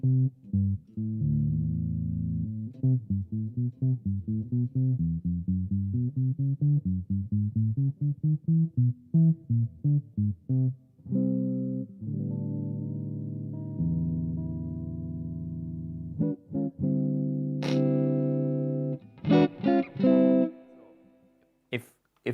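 Telecaster electric guitar on the neck pickup with a dark, muffled tone, a run of plucked single notes and chords played up close and alone, ending in a few sharper strums.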